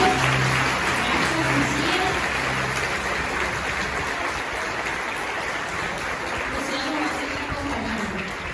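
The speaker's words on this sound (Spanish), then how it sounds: "Un aplauso al Señor." Worshippers in a church give sustained applause during a prosperity retreat service, a dense, rain-like patter of many hands that stays fairly loud and slowly eases off, with faint murmuring beneath.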